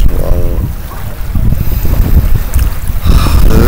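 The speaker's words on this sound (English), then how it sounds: "little bit cold weather, which is a little bit windy" Steady wind blowing over a lake in Afghanistan on a cold day, a continuous low rushing roar with buffeting wind noise on the microphone throughout, loud and close, no voices.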